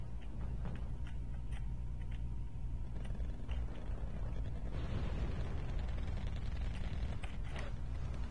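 Artillery fire mission in Wargame Red Dragon, a dense rumbling barrage of low explosions rolling continuously with scattered ticking and clicking over the top, loud and sustained without talk.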